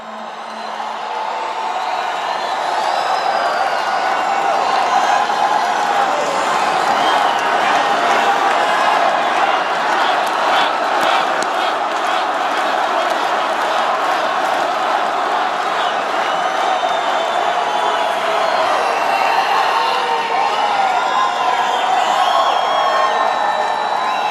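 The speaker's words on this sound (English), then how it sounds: "What a crowd." A huge crowd at a Trump rally in Phoenix roars with sustained cheering and whoops, a dense, loud wall of noise that swells early and holds steady throughout.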